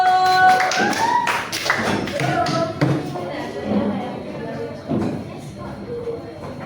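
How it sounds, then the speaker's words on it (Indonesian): Classroom applause for a student group, a burst of clapping and tapping mixed with children's voices and chatter, fairly close and lively. "Beri tepuk tangan kelompok 1"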